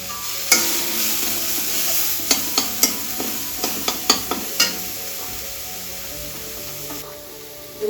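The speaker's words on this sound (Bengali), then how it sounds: "তেলটা গরম হয়েছে, এবার একটু পেঁয়াজ রসুন আদা বাটা আমি এতে দিলাম।" Onion, garlic and ginger paste with chili powder frying in hot oil in a kadai for a stuffed bitter gourd curry: a steady close sizzle, broken by a quick series of sharp spatula scrapes and taps while it is stirred.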